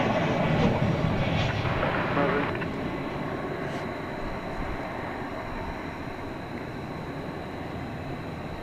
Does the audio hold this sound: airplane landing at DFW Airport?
yes